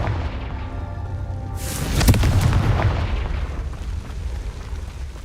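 A Confringo explosion spell in Hogwarts Legacy goes off with a sudden loud boom about two seconds in, followed by a rumbling blast tail over ongoing game ambience.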